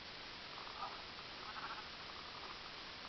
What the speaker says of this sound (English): Look, sheep.